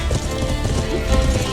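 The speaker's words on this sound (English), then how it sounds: "Walk the horse." Horse hooves clip-clop on the ground in the medieval online game Life is Feudal, a steady walking rhythm set in a dense, busy mix of game sound.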